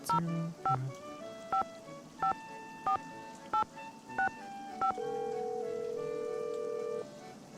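Phone keypad tones ring out in Nancy Drew: Danger by Design: a quick series of sharp, evenly spaced dialing beeps, then a long steady ringback tone, all clear and with no talking.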